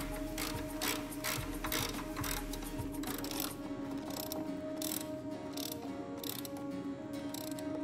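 A hand ratchet clicking steadily as it tightens the top mounting bolts on a Porsche Cayenne during an air suspension to coil spring conversion, close and clear with no talking.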